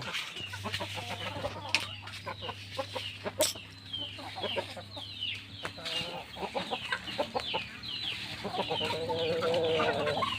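Several chickens cluck and chatter close by in short bursts, with a steady low hum in the background.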